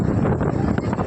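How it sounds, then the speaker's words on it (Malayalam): Strong wind buffets the microphone at the crowded Kanyakumari sunrise viewpoint by the sea, a steady loud low rumble filling the whole moment without a break. "നല്ല കാറ്റും വീശുന്നുണ്ട്."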